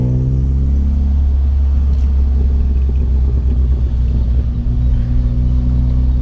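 A big car on a rough, potholed rural road in Japan, with a loud, steady low engine rumble and road noise from close by, no talking.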